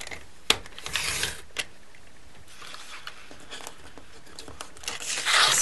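Scissors cut printed photos into strips for resin bangle bracelets: a few crisp, close snips and paper crinkles, then quieter rustling and handling noise.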